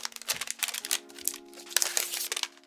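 The plastic wrapping on a new 2021 iMac keyboard crinkles and crackles as it is peeled off, with close, quiet bursts of rustling and a few sharper snaps.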